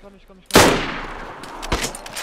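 SKS rifle shot in DayZ: one sharp, loud gunshot with a long decaying tail, then a second, fainter shot about a second later, with faint game sounds before.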